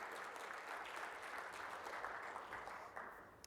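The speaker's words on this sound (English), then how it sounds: "Big round of applause" Applause from a conference workshop audience welcoming a presenter, a steady, fairly faint wash of clapping that holds for several seconds and tapers at the end.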